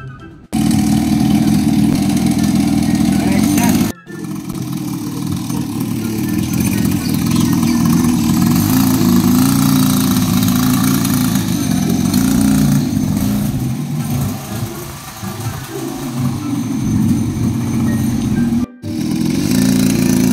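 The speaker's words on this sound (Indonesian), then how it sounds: "mendingan aku naik motor" A motorbike engine runs steadily at idle with a low, rough drone, briefly cutting out twice and swelling slightly as it is revved, loud and close throughout with no talking.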